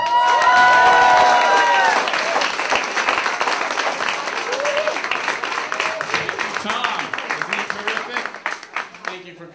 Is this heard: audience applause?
yes